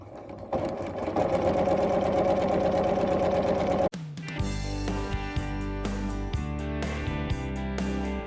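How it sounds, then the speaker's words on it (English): Sewing machine stitching a drawn diagonal line across quilt panel fabric, a close, steady mechanical whir that cuts out briefly midway, then returns with a rhythmic, clattering pulse. "here I am sewing the second drawn diagonal line on the opposite side"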